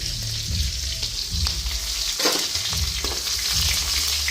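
Spices with green chilli and ginger fry lightly in a hot pan, a steady broad sizzle running throughout with occasional soft stirring scrapes, close and fairly loud, no voices.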